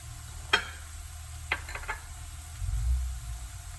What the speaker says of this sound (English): The onion mixture has been frying for around 10 minutes now, so I'm going to add the other ingredients. Add the chili pieces.